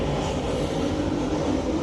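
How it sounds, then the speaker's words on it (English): Airplane passing overhead outdoors, a steady broadband roar holding evenly throughout at moderate loudness with no voices. "Excuse the airplane."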